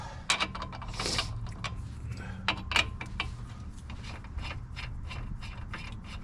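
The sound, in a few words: ratchet removing lug nut from Chevy wheel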